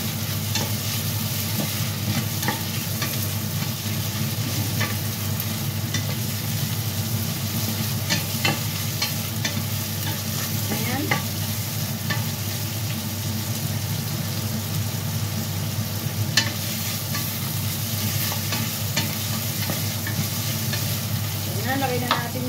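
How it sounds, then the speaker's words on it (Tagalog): Minced pork browns in a pan for pakbet, a steady loud sizzle and frying crackle with stirring scrapes, continuous throughout with no talking. "Pag-brownin lang natin yung ating minced pork."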